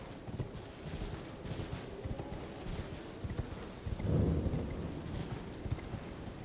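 Hooves of an ox-horse hybrid mount in Elden Ring clop along in a steady rhythm, a heavier thud near the middle, set against a dense game soundscape.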